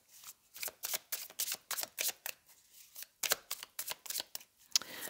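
A deck of tarot cards is shuffled up close, producing a rapid series of crisp riffling bursts separated by brief pauses, with no voices.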